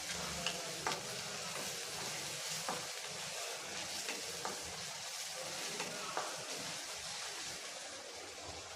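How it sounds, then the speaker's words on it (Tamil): Two finely chopped onions sizzle in hot oil in a pan while being cooked for a chicken kuzhambu, a constant crackling fry broken by soft periodic scrapes and clicks of stirring, with no voices. "வெங்காயம் வந்து நல்லா வதங்கணும்."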